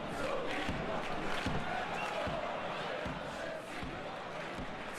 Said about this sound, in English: The crowd appreciates good football all round there.